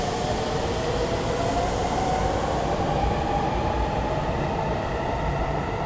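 A Sendai subway Namboku Line train pulling out of Yaotome station, a steady loud rumble and rising whine of the departing cars, continuous for the whole stretch with no talk.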